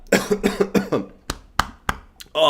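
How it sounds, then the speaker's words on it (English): A person coughs repeatedly, a run of harsh close coughs followed by a few sharper isolated ones and a throaty rasp at the end. "I'm coughing up a storm here."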